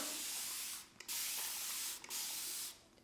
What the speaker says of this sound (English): I'm just going to start spraying my hair down.